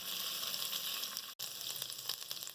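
Onion sautéing in oil with ginger and garlic for a hot and sour soup, a continuous close sizzle broken by one brief gap near the middle.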